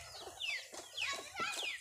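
Chicken clucking after laying an egg, a run of loud, close cackles in uneven bursts with no talk.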